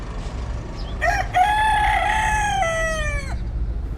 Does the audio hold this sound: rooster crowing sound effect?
yes